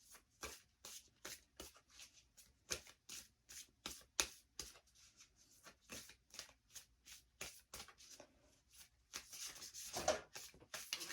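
Moonology oracle cards being shuffled by hand, a quick run of soft riffling bursts in an irregular rhythm, close and quiet with no talking.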